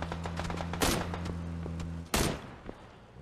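Two sharp gunshots in the video game PUBG ring out about a second apart over a low steady hum, with faint clicks in between.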